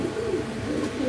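Caged pigeons kept for sale cooing steadily, a soft continuous low burble of several birds close by, with no talking.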